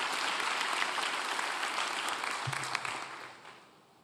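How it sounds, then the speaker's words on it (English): Audience applause at a governors' summer meeting opening plenary, sustained clapping from a large room that holds steady, then fades away toward the end. "Give her a great round of applause."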